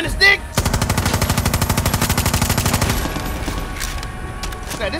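An automatic weapon in the shooter game Far Cry 6 fires one sustained, loud burst of rapid, evenly spaced shots lasting about two and a half seconds. A short thump comes before the burst, and game noise follows after it stops.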